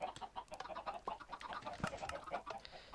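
Chickens clucking in a chicken farm inside a video game: quiet, busy clucks and short squawks repeating irregularly, with no talk over them.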